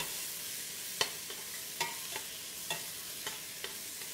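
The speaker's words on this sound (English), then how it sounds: "So that goes into the pot, and we start stir frying" Onions and garlic stir fried in a generous amount of oil in a pot, a steady soft sizzle with a few sharp scraping stirs scattered through it.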